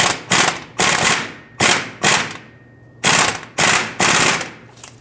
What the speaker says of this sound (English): I'm just going to snug it up with my air gun